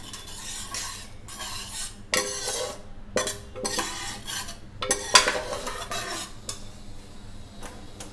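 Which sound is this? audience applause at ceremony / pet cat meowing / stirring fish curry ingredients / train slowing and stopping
stirring fish curry ingredients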